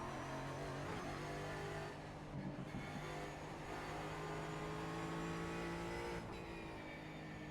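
A Ford Mustang GT4 race car's engine revs in the sim-racing game iRacing, with rising and falling tones through gear changes and a few brief dips between pulls. It is steady, close and alone, with no talking.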